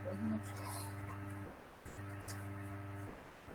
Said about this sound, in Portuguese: Vocês vão ficar ouvindo ele chorar no fundo.